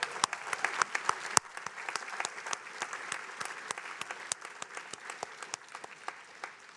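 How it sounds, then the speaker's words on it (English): Audience applause at Harvard Alumni Day following a keynote by Dr. Gawande: a sustained, even patter of many hands clapping in a large hall, fairly distant and steady throughout. "One more round of applause for Dr. Gawande."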